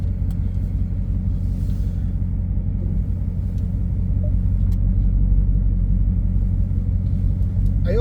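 Dodge Hellcat driving in custom mode, a steady deep engine and road rumble running loud and continuous from the cabin, with no clear revs or bursts.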